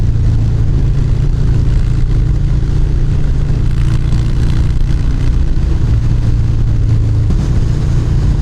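A Harley-Davidson Dyna Fat Bob motorcycle engine gives a loud, deep, continuous rumble with a steady throb that holds through the whole stretch, close by and with no voices.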